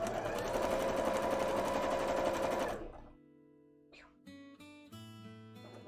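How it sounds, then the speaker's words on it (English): Sewing machine running steadily through layered cosplay fabric, loud and continuous for about three seconds, then stopping and leaving a few faint clicks and handling sounds with no talk. "And start sewing through all of this."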